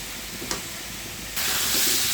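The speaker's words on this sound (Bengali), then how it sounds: "এই পর্যায়ে কুমড়াটা দিয়ে দিচ্ছি।" Sweet pumpkin pieces drop into hot oil and spices for a stinging catfish curry. A steady steamy hiss suddenly swells into a louder, continuous sizzle that holds, close and loud, with no talking.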